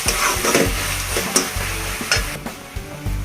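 Chili sauce being stirred into Schezwan fried rice in a hot pan: a steady sizzle with a series of close, scraping spoon strokes and clinks against the metal, no voices.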